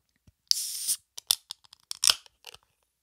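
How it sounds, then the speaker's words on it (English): Ring pull cracking open an IPA beer can close up, a sharp hiss and pop followed by several small metallic clicks and a brief fizz. "I'll give you the ASMR ring pull."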